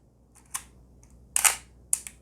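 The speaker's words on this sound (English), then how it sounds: "The shutter works." Shutter of a Konica Autoreflex TC film SLR with a 50mm f/1.7 lens firing, giving three crisp separate mechanical clicks spread over about two seconds, the middle one loudest, close up in a quiet room.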